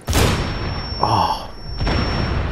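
A grenade blast in Rainbow Six Siege, a heavy close boom at the start followed by rumbling debris and a second muffled thump, with an excited voice briefly breaking in.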